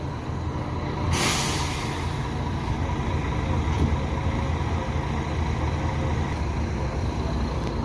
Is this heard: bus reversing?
yes